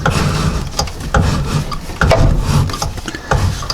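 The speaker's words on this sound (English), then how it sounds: "I should be able to roll it right around the pulley" A rubber drive belt on a 50-inch, 24 HP Cub Cadet XT1 lawn tractor rolls over a pulley with close, rhythmic rubbing and scraping strokes against the tensioner.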